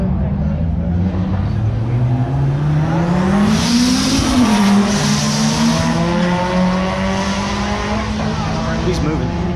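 A Dodge Viper at a Street Car Takeover event in Bowling Green, its loud engine droning close by and rising in pitch as it revs, then settling, over a continuous roar of crowd and track noise.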